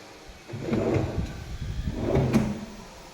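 A drawer on a wooden TV rack console slides open and shut twice in a row, each a low rumbling glide that ends in a soft knock, close by and with no talking.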